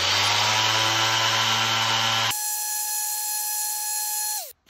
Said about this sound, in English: So I take my random orbital sander and I'll just round the edges off.